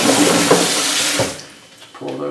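Cold running tap water rinses walnuts for pickling, a broad steady splash that holds for over a second, then thins and drops away into a quieter trickle before picking up again.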